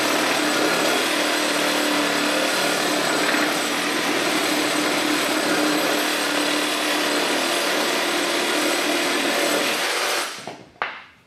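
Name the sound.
DeWalt FlexVolt reciprocating saw cutting pressure treated wood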